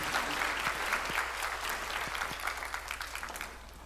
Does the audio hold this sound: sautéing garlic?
no